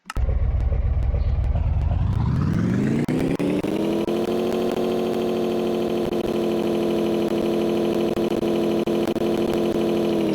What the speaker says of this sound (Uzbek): Stage 5 ni ochib bu yerga qo'yganimizda endi mashinani ovozini eshitamiz